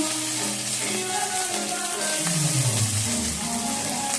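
Chicken pieces and shrimp fry in a pan with a loud, steady hiss of sizzling oil, broad and continuous, with faint tonal background sounds and a low sliding tone partway through.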